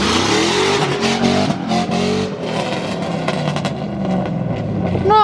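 A car with a stock 5.3 engine accelerates hard on a street run, its loud, close roar climbing through the gears with brief dips at shifts and a high squeal at the very end.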